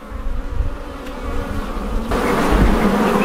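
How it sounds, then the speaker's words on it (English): Dense, continuous buzzing of many honey bees up close at a hive, growing louder and fuller partway through. "This is a very strong hive, lots of bees."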